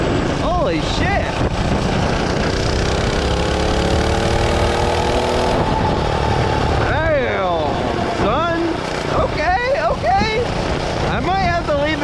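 A minibike engine runs steadily throughout a ride, with a loud sustained drone mixed with wind buffeting, while a rider's excited voice talks and exclaims over it in a few short bursts.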